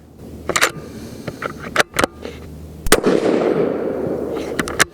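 Several sharp rifle shots from a Tikka T3X Super Varmint in .223 Remington firing Hornady 69g bullets crack out loud and close, spaced irregularly, with one heavier blast followed by a rumbling echo across an outdoor range.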